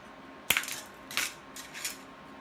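A plastic spoon handle being cut through gives three sharp, crisp snaps spaced under a second apart, each ringing briefly, in an otherwise quiet room.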